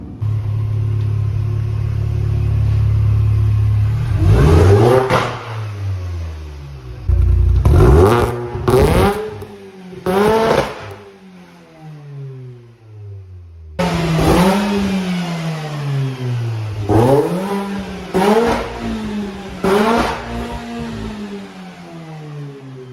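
A Mini Cooper S R53 project car, smoking as it sits on a trailer, revved repeatedly: loud, close engine bursts rising and falling in pitch with short pauses between, alone without talk.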